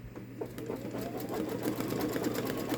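A Babylock Solaris Vision embroidery machine stitches at a lower programmed speed, a rapid, steady mechanical chatter with a constant motor hum, close and continuous.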